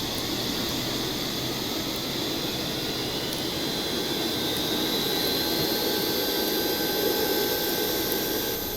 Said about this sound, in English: That's pretty accurate to what I know of an APU.